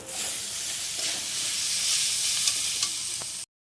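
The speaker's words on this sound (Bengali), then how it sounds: "তো দেখো মশলাটাকে ভালো করে কষিয়ে নিচ্ছি" Spice masala fries and is stirred in a pan, a steady close sizzling hiss with light scraping strokes and small pops, cutting off abruptly near the end.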